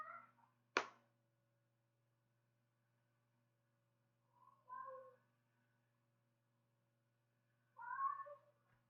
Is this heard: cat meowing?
yes